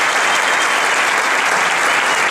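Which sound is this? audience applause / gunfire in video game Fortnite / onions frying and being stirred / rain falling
audience applause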